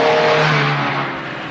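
A car engine in a 1950 film scene accelerates loudly over a brief stretch, the pitch of the motor rising and then easing off as the drive continues, with no voices over it.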